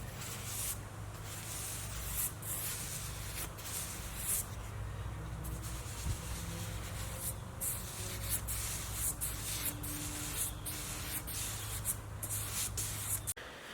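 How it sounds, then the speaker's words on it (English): A paintbrush spreads paint over painter's tape and caulking with quiet, close, repeated scratchy strokes over a low steady background hum, and no one speaks. "we're going to take paint and a paintbrush and we're going to apply it to all 3 tape surfaces."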